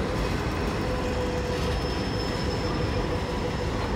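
A train rolls past on a railroad line, loud and close, with a continuous rumbling roar of wheels on rails and a faint high squeal running through it.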